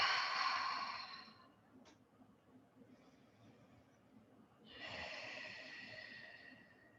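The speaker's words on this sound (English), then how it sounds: "exhale, open mouth." A deep exhale through an open mouth during a stretching and breathing exercise, heard as two soft, breathy rushes a few seconds apart, close and alone in quiet surroundings.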